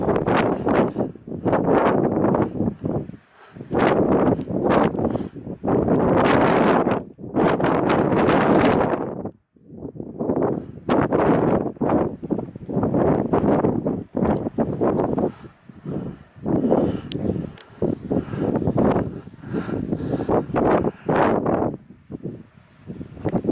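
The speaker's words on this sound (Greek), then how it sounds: "Φυσάει εδώ πάνω, χαμός γίνεται." Strong gusts of wind roar across a mountain summit on the island of Evia, buffeting the microphone in long loud blasts with brief lulls between them, and no voices are heard.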